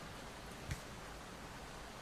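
Rain ambience from the airport management video game Airport CEO, a faint, flat, continuous hiss like steady rainfall with one soft tap partway through.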